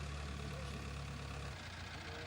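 A crane's engine rumbles low and steady at close range while clearing a tractor that overturned into a ditch at an accident site in Bagalkot.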